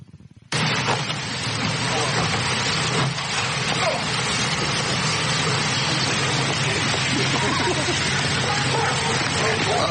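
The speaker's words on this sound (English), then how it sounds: "those are the neighborhood dogs that are barking at us right here." Neighborhood dogs bark amid a loud, dense burst of noise that starts abruptly and holds steady, the barking mixed into a busy, crackling background rather than standing out clearly.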